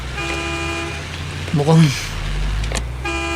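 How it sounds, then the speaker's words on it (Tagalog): A truck on a dark road sounds two sustained horn blasts, one before and one after a short burst of a person's voice, over a steady low engine rumble as it approaches. "May paparating na truck! Mapapangga ako!"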